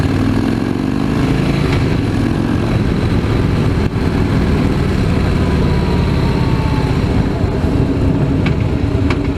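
A 2016 Harley-Davidson Fat Boy S motorcycle engine rumbles loud and close with a deep, continuous throb, holding steady with slight shifts in pitch throughout.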